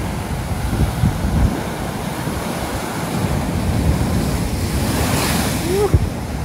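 Rough ocean surf pounds a Hawaiian shoreline at a campsite, a steady, loud roar of breaking waves mixed with gusty wind buffeting the microphone, with no voices.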